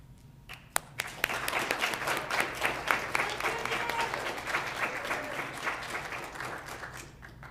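Sustained audience applause at a school district board meeting, a dense wash of many hands clapping that starts after a few sharp claps and holds steady at moderate distance for several seconds, with faint talk underneath.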